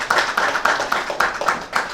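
A small group claps in steady rhythmic unison for a school quiz team, regular sharp hand claps repeating about four times a second, fairly close with no talk over them.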